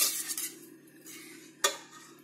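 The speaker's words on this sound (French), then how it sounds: "avant d'ajouter les autres ingrédients, on va bien mélanger" A spoon stirring chocolate zucchini cake batter in a bowl, a soft continuous scraping swirl with one sharp clink of utensil against the bowl near the end, close and without talking.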